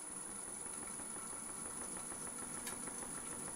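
A machine running at about 400 RPM gives off a faint, steady mechanical hum with a light rhythmic vibration and no voices.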